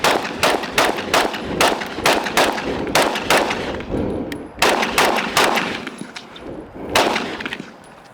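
Gunshots from an FN 10 millimeter handgun at an outdoor range: a loud, steady string of sharp reports, roughly one every half second, with a short pause midway before the shots resume.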